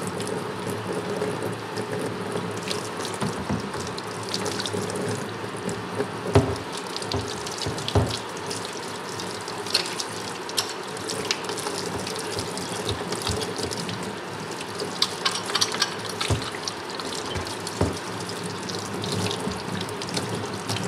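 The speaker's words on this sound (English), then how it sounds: "Again, I'm using hot water." Hot tap water runs steadily into a sink while a bear skull is cleaned during boiling, a continuous close rush with occasional faint clinks and knocks.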